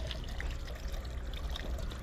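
Water pours steadily from a tap at a botanical garden in Armenia, a continuous close splashing rush that runs without a break and with no voices.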